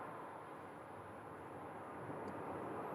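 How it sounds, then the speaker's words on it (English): A UPS Boeing 767 taxiing for departure at Phoenix Sky Harbor Airport, heard as a steady, faint, distant jet engine rumble across the whole stretch, with no talking. "We have a UPS 767 that's taxiing on the other side for departure."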